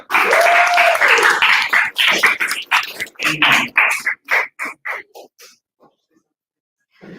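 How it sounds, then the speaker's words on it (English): An audience at a public speaking training event claps loudly for a judge being introduced, with a whoop or cheer early on; the applause thins into scattered claps and fades to silence after about five seconds. "Let us give a big round of applause for Sir Stephen Guntur."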